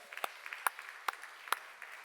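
Several slow, evenly spaced claps from a church congregation during a sermon, four distinct hand claps about half a second apart, fairly close in a quiet room.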